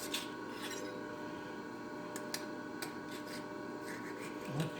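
Steady rasping of a hand file scraping burrs off metal pieces before they are riveted with 3/16-inch truss head rivets, continuous close strokes with a few sharper scrapes and faint background noise.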